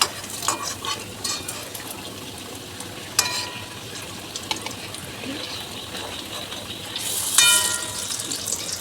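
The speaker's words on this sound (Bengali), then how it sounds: "একটু বেশ কড়া করেই ভাজবো" A snack of semolina and raw grated potato fries crisply in hot oil, giving a constant gentle sizzle broken by scraping stirs and a few clinks of the utensil, heard close with no voices.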